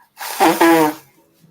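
A single sharp sneeze bursts out in a quiet room partway through a conversation, loud and close, with a short voiced buildup and explosive release, then silence.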